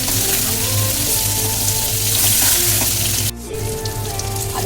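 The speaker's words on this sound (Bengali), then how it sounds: "আলুটাকে লাল লাল করে ভেজে নেব।" Potatoes frying in white mustard oil, a steady loud sizzle filling the pan up close, briefly dipping as the food is stirred, with no voices.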